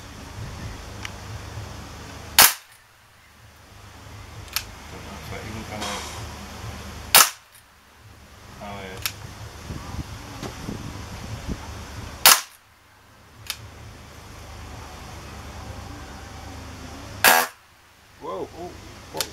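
An Umarex Colt Python airgun fires BBs: four sharp, loud single shots spaced about five seconds apart, each a crisp crack with a short decay, and quieter handling noise and low voices in between.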